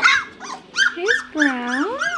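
Three-week-old puppy in a litter, giving a run of high whining yelps and whimpers with sliding pitch, close and fairly loud, with a voice mixed in.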